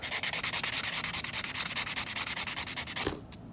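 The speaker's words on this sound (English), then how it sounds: "I'm gonna take this little sander brick and I'm just gonna go over them like this" A small sanding brick rubs rapidly back and forth over fingernails, a close, even, rhythmic scratching of short strokes that stops abruptly near the end, with no speech.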